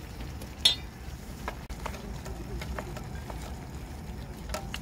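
Ingredients stir-fried in a pan at a campsite give a soft continuous sizzle, with scattered clinks of a utensil against the pan close by.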